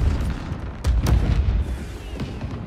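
A couple of deep, booming blasts close together in Marvel's Spider-Man 2, followed by rumbling noise that gradually settles.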